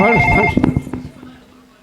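A telephone rings with a warbling electronic tone that stops after about half a second, leaving a faint trailing echo.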